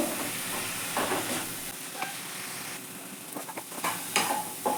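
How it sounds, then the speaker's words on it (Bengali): Masala with chopped tomato sautéed in a pan for a mung dal dish: soft, steady sizzle with scattered stirring scrapes, fairly faint and without voices. "আমি আবারও একটু মশলাটা কষিয়ে নেব"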